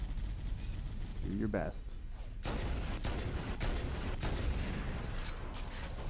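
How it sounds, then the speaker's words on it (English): A .50 cal machine gun firing in Halo, heard as a steady run of loud, heavy booming shots under a brief spoken line and constant in-game battle noise. "Alright, just a 50 cal machine gun."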